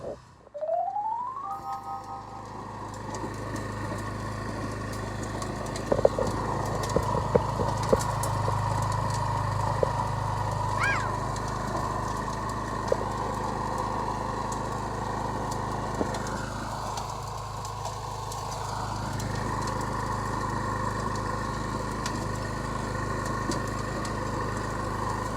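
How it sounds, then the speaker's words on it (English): A rented Honda rototiller engine runs steadily while tilling soil for sod, a constant mid-distance engine drone with occasional clanks and knocks and no speech over it. "Let's get back on the rototiller and get it done."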